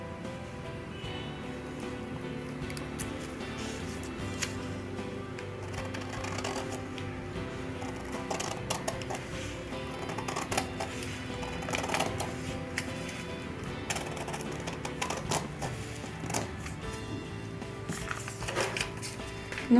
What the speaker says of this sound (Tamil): இப்போ நம்ம இந்த லைனை கட் பண்ணணும்